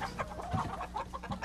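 Farm chickens cluck in short, soft, overlapping bursts nearby, a brief busy stretch of fowl chatter with no talking.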